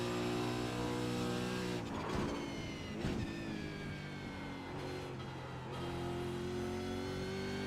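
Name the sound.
iRacing Supercar engine at full throttle, racing video game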